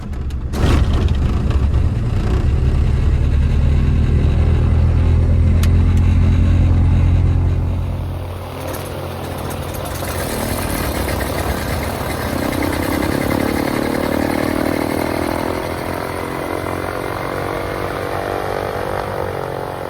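Engines of a Tecnam P2006T twin-engine aircraft start up, a loud, rough low roar that settles after several seconds into a steadier, quieter idling drone with a rising propeller whine.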